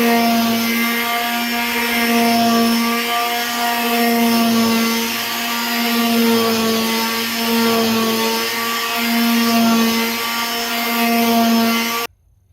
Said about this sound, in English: So now I'm going to sand for a while.